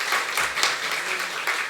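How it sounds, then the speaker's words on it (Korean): Congregation applauding in a church to give thanks and glory to God after a summer ministry, a dense steady wash of many hands clapping, moderately loud and continuous throughout. "이 시간에 우리 하나님께 좀 감사와 영광의 박수를 올려드리면 어떻겠나 싶습니다"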